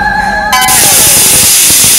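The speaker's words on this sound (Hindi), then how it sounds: "अरे वो कुकर की आवाज थी" A kitchen pressure cooker lets out a short, shrill whistle tone that breaks into a loud, continuous steam hiss, close and filling the rest of the moment.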